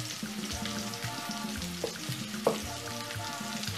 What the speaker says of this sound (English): So I'm going to add the carrots now to my